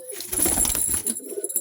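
Madrasi pigeons in Murshidabad give a close, soft cooing burst with a flutter of wings, followed by quieter scattered bird sounds.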